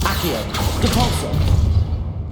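Depulso spell cast in Hogwarts Legacy, a dense magical whooshing blast with thuds and crashing impacts, loud and continuous through the moment, fading at the end.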